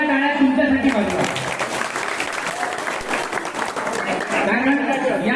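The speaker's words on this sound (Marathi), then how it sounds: "एकदा जोरदार टाळ्या तुमच्यासाठी वाजवा." A crowd at the final of a village Home Minister game show event in Rangana Tulsuli claps loudly in a sustained burst, with a voice talking over the start and end.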